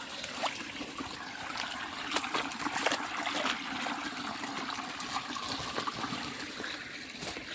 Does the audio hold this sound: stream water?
yes